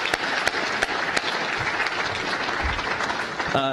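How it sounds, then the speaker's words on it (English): Loud audience applause for Assemblyman Gray at a Turlock community gathering, dense continuous clapping with a few crisp nearby claps and a brief voice-like burst near the end. "we need to owe him a round of applause"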